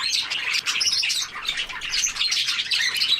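Pet birds, including a budgie, splash in a bath and chirp inside an indoor bird room, with bright overlapping tweets and flutters of wet wings close by and no talk.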